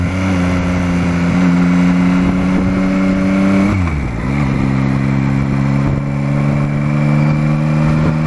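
Motorcycle engine pulling steadily uphill in second gear on an autumn road, a loud continuous mid-range drone close by, with a brief dip and shift in pitch partway through before it settles back to a steady hum.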